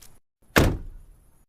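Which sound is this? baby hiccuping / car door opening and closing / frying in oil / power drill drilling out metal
car door opening and closing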